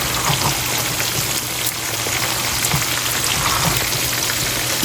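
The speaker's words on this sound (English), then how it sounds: "I'm just gonna give them a good stir." Potatoes frying in a pan, served alongside fried pork chops, give a steady, loud crackling sizzle with dense spattering pops throughout, the texture of hot oil being stirred.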